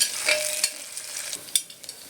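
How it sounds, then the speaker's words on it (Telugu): Tomato rice ingredients fry in a pan until light pinkish, with a brief crackling sizzle broken by a few sharp stirring scrapes and clicks, close and alone. "ఈ లైట్ పింకిష్ కలర్లోకి వచ్చే వరకు ఫ్రై చేసుకోవాలి"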